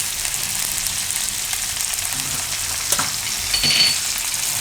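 Okra cooks with salt and turmeric in a pan, giving a constant close sizzle and crackle, with a brief scrape of stirring near the end.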